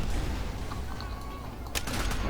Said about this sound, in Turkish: Patlamaya bak